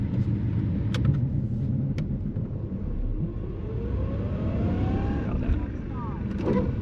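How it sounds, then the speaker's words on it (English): A truck engine rumbles steadily, its pitch climbing as it revs, then dropping off as it shifts from first to second gear without the clutch, over constant road noise. "I'll show you how low you can shift from first to second here"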